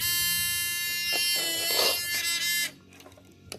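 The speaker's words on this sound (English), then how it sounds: "let's test the buzzer again" Electric buzzer in a simple circuit demo, sounding a steady, loud, harsh tone for about two and a half seconds before cutting off, with a few faint clicks afterward.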